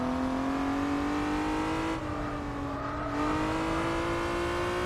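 A six-cylinder car engine in Gran Turismo 4, a loud smooth drone that climbs steadily in pitch under acceleration, with a short gear-change dip midway.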